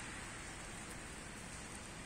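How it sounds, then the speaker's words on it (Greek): Steady rain falls outdoors on a cold, wet day, making an even, dense hiss that holds at the same level throughout, with no voices. "τώρα βέβαια λίγο έκοψε η βροχή"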